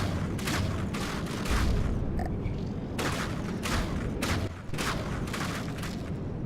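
Missiles launch from a missile gantry in the naval combat game From the Depths, a rapid series of loud whooshing blasts fired one after another over a dense, continuous roar.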